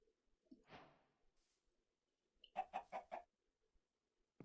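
Minecraft chickens in the ATM 8 modpack, a short cluck followed by a quick run of four clucks, clear and close against near silence with no talking.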